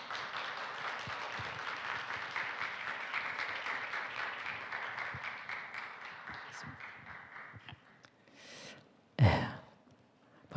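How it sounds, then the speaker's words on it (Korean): A church congregation applauds to welcome a returning missionary: a dense, sustained round of clapping that gradually thins and fades over several seconds, followed by a couple of short, louder bumps near the end. "박수로 모시도록 하겠습니다"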